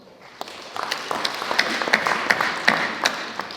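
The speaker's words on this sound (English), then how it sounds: "Round of applause" An indoor conference audience applauds, a dense burst of clapping that swells and holds for a few seconds, fairly loud and close, with no talking over it.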